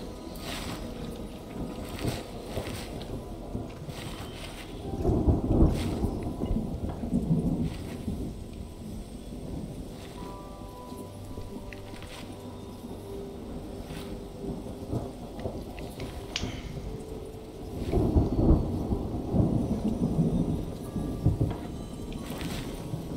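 Steady rain and rolling thunder from a storm in the Mind Over Magic video game, with two louder thunder swells rising over the constant downpour.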